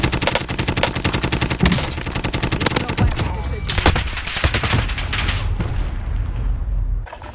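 Rapid automatic gunfire from a machine gun in a video game, sustained dense bursts loud and close throughout, with background game noise and no clear talk.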